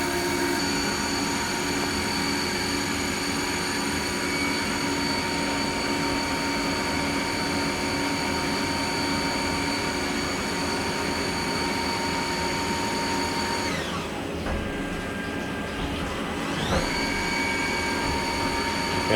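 A Haas VF0/VF2 CNC mill machines aluminum at high speed, a steady, continuous whine with a constant background rumble that briefly shifts pitch and dips partway through. No one speaks.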